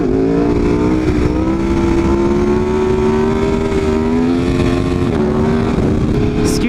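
A Ducati 959 motorcycle engine revs hard at a bike night, its loud sustained roar holding steady with a slight rise and dip in pitch throughout, close by and continuous.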